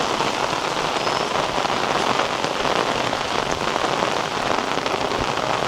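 Monsoon rain in a Konkan village falls steadily on surfaces, a dense, even patter of drops close by, continuous and loud with no voices.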